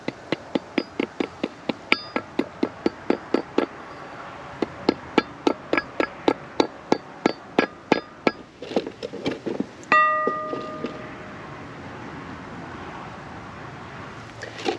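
A heavy flat steel plate is hammered down onto a wheel bearing seal for electric trailer brakes, a steady series of sharp ringing metallic blows, close and loud, followed by a resonant clang that decays into a lingering ring.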